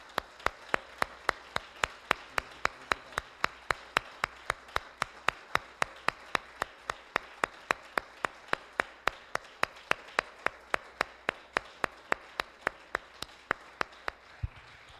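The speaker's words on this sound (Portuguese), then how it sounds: "Dê uma salva de palmas para Jesus." A church congregation claps in a steady, even rhythm of sharp single claps, roughly three per second, sustained throughout at moderate distance with no talking.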